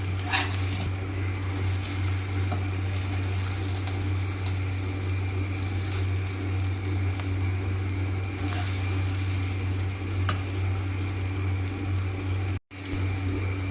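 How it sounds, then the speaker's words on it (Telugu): Stuffed ivy gourd mixture is stirred in a pan over a steady frying hiss and a constant low hum. A few soft scrapes and taps sound from the utensil, and no one talks. "మనం దీన్ని కలుపుకుందాం."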